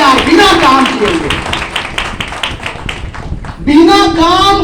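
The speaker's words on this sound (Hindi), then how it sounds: "एक जोरदार ताली होनी चाहिए इनके लिए।" An audience at a network marketing plan presentation claps in a quick, steady rhythm beneath a man's loud speech, and the clapping fades as his voice returns.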